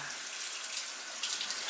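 Rock sugar is rinsed under a running kitchen tap, a steady close hiss of flowing water that continues without break, with no voices.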